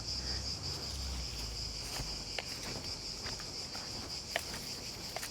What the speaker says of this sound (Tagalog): Ang ingay ng mga insekto dito eh.